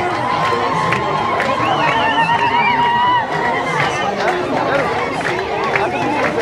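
Ethiopian wedding crowd clapping, cheering and shouting in a dense, continuous roar, with high whoops and ululating voices rising over steady clapping close by.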